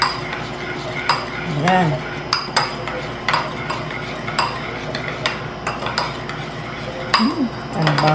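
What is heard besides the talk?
mixing pork neck with garlic and salt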